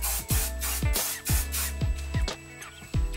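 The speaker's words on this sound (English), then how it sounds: "just going back in with my Big Finish hairspray" Big Finish hairspray hisses from an aerosol can onto curled hair in a series of about seven short, close bursts with brief gaps between them and no speech.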